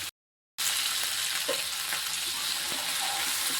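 Tomatoes sauté in a pan for a Tamil garlic tamarind curry, giving a steady close sizzle and crackle with a few soft stirring knocks, after a brief silent gap at the start.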